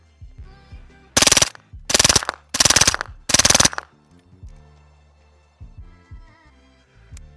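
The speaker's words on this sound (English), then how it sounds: "Shooting the same 115 grain ammo." Four rapid, loud bursts of fire from a suppressed 9mm 8-inch K model MPX with an integral suppressor, shooting 115 grain ammo, each burst a dense rattle of shots separated by brief pauses, with quieter mechanical clatter before and after.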